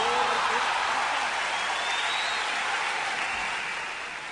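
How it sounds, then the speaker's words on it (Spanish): An audience at the Copihue de Oro 2011 awards ceremony applauds, dense sustained clapping from a large crowd that slowly fades, with faint cheering and music underneath. "Este aplauso es para ti."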